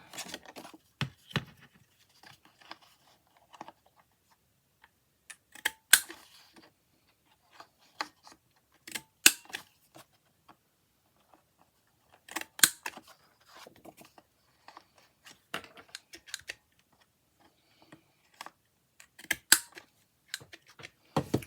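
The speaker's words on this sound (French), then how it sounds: "je vais couper mes angles" Scissors snip the corners of a crochet piece in short, sparse bursts of close cutting and rubbing sounds, separated by quiet pauses, with no talking.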